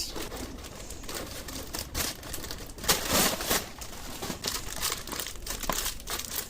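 Plastic wrapping crinkles and tears continuously as a tightly packed pen set parcel is opened by hand, close and busy with irregular rustling bursts.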